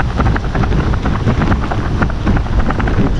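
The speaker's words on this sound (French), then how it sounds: "Et toujours ce vent de dingue." Loud, buffeting wind roars and gusts against the microphone in a constant low rumble with no voices.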